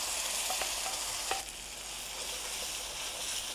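Tomato paste and ground dal hit a hot spiced tempering for Udupi rasam, giving a steady, loud, close sizzle with brief stirring scrapes near the start and no talking.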